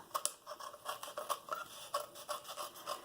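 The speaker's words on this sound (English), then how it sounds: "I can take my snips and just go right here along the edge of the cup and just snip those even with the cup" Metal snips trimming paper or card flush along the rim of a cup for a sweet-cup craft, giving a quick run of crisp, close snipping strokes in a fairly even rhythm, with no voices.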